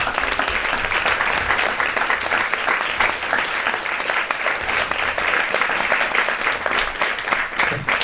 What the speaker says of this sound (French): On peut applaudir avant.